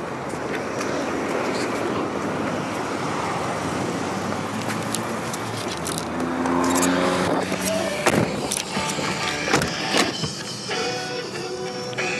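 A 1987 Cadillac Brougham limousine rolling around a parking lot, a steady low engine and road rumble with mechanical whirs, clicks and rattles growing busier in the second half.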